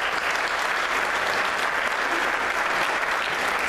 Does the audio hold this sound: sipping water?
no